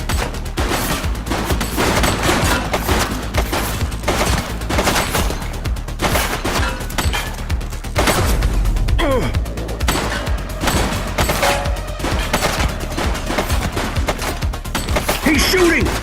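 Heavy exchange of gunfire during a police chase of a suspect in The Precinct video game: rapid overlapping shots, machine-gun bursts and a booming hit, loud and continuous over a music bed.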